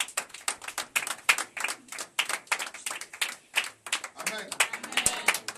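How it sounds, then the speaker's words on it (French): A church congregation in Morocco claps in quick, steady rhythm, the sharp hand strikes packed close together, with voices rising among them. "Est-ce qu'on peut acclamer Jésus?"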